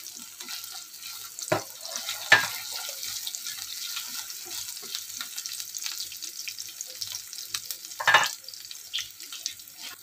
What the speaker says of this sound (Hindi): फिर हम इसमें डालेंगे ग्रेट किया हुआ अदरक। इसे हम 1 मिनट के लिए सौते करेंगे।